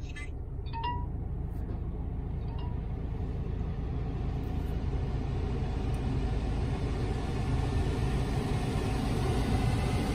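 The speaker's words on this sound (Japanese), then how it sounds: "ではエンジンかけます。" A Mazda Demio idles with its engine just started, a steady low rumble filling the cabin at constant level, with a few faint high electronic chirps early on.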